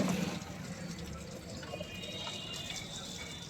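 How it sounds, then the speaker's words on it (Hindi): Coolant drains from an opened pipe on a tractor's water body during a repair, giving a steady, continuous gush of liquid close by, with no talk. "ये सारा कूलेंट निकल रहा है भाई।"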